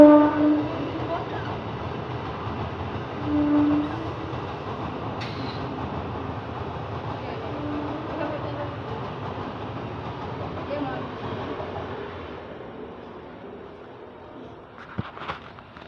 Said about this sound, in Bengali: এই আরেকটা ট্রেন গেল